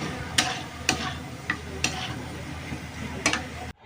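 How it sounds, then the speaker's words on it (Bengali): Fried chicken roast pieces are stirred into spices in a hot pan, with a spoon scraping and knocking the pan in roughly regular strokes over a steady sizzle, close and fairly loud, with no talking. "রোস্টের পিসগুলো দিয়ে মশলার সাথে ভালোভাবে রোস্টের পিসগুলো মাখিয়ে নেব।"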